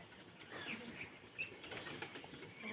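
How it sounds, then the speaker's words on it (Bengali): Pigeons flutter and flap their wings near a wall, soft repeated bursts of wingbeats at moderate distance, fairly faint against quiet background noise. "পায়রাগুলো ছটপট ছটপট করেই যাচ্ছে"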